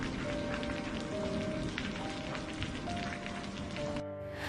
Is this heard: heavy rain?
yes